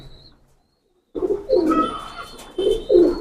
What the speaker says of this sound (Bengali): কবুতরটা অনেক সুপার কবুতর